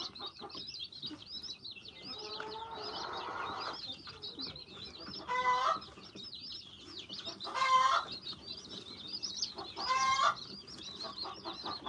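Chickens cluck and chirp steadily while a rooster gives several loud, raspy calls spaced a couple of seconds apart, all close by.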